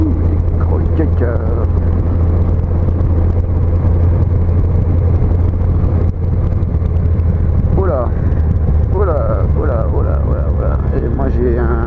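Yamaha FJR 1300 motorcycle engine droning steadily while riding near Saint-Jean-Pied-de-Port, a loud constant hum with wind rush and someone talking over it throughout.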